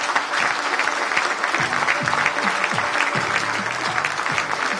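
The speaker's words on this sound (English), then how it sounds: "Ladies and gentlemen, a round of applause for Mr." Audience applause fills a hall at an investment summit as a guest is called to the stage, steady dense clapping throughout at a moderate level with some faint voices mixed in.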